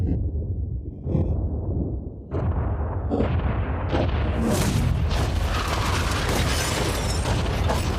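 A yacht being blown up: a few sharp, separate booms come first, then a loud, sustained blast and roar that fills the rest of the clip, with no talking.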